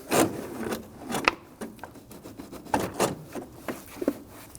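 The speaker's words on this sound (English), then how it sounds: "I'm going to work that into the intake tube." A plastic air filter lid on a Volvo XC60 is worked onto the intake tube, making close, uneven rubbing and scraping creaks with short bursts of plastic friction.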